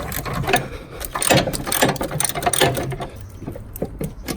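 Ratchet loosening the 14mm center bolt of a Toyota Auris gearbox mount, a close, rapid clicking run of pawl strokes in quick bursts that slow toward the end.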